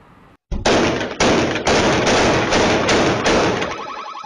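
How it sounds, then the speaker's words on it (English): Multiple gunshots fired into an occupied restaurant, caught on a security camera: a rapid burst of loud, sharp reports in quick succession, each crack blurring into the next with heavy echo, after a brief silence. "they came back and fired multiple gunshots into this occupied restaurant"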